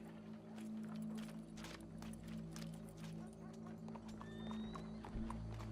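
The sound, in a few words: horse hooves clip-clopping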